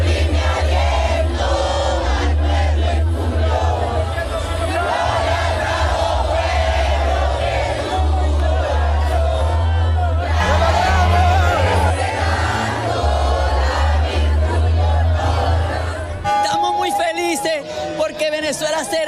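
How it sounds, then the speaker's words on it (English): A large street crowd in Caracas roars and cheers without pause, a dense wash of shouting voices that stays loud throughout before thinning near the end. "showing crowds in parts of Caracas and other cities cheering, honking car horns, waving flags, and celebrating openly"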